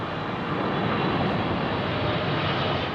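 A large airliner touches down on runway 27R at Heathrow, its engines producing a dense, loud, steady roar that stays constant with no voices present.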